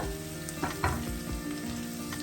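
Chicken liver and onions sauté in a pan, a steady close sizzle with a couple of soft stirring knocks in a brief stretch.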